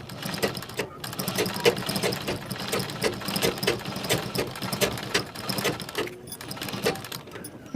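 A sewing machine runs steadily, stitching a cut design onto a blouse sleeve, with a fast rhythmic mechanical chatter that pauses briefly near the start and again toward the end.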